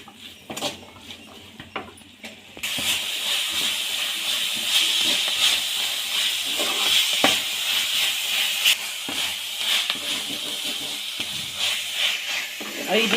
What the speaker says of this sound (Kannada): ಇದಿಷ್ಟನ್ನು ಹಾಕಿ ಸೊಪ್ಪು ನೀಟಾಗಿ ಬೇಯೋ ತಕ್ಕ ಇನ್ನೊಂದು 5 ನಿಮಿಷ ನೀಟಾಗಿ ಹುರ್ಕೊಳ್ಳಿ